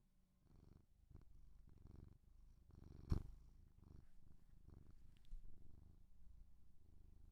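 A cat purring close to the mic, its low rumbling pulses rising and falling steadily through the whole stretch, with one brief sharp knock partway through.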